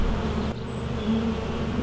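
Honeybees buzz at a rooftop hive in a close, continuous drone, with a brief dip partway through before the hum carries on steadily.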